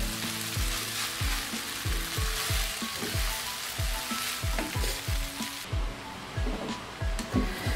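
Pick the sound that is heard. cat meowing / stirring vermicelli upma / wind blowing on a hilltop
stirring vermicelli upma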